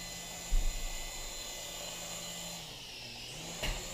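A small Swann Micro Attack indoor RC helicopter flies around a house with a steady, faint high whine from its rotors. A couple of soft knocks come through along with a brief shift in pitch.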